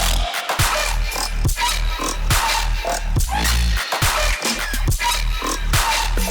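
Deep synthesized sub bass throbs under a dense electronic mix, with sharp percussive hits punctuating the steady, loud low end.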